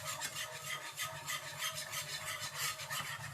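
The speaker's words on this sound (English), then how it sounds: "We'll keep stirring it so that it won't stick to your pan." Food being stirred in a pan on a home stove, a steady rhythmic scraping and rubbing of the utensil against the pan bottom, repeated strokes at close range with no talking.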